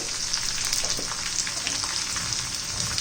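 Garlic frying in a generous amount of oil with asafoetida for garlic chutney, a steady close sizzling hiss with faint crackles throughout, no speech.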